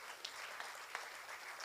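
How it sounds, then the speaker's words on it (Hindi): An audience at a Hindi kavi sammelan (comic poetry gathering) claps together, a soft, steady patter of many hands heard from some distance, with no voices over it. "इन दोनों विभूतियों के लिए आप तालियां बजाइएगा, मेरे कहने से बजाइएगा।"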